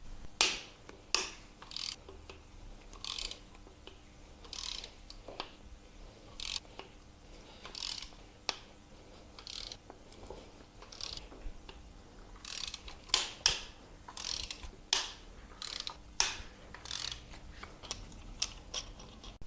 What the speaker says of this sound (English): you should hear every bolt I'm about to take off crack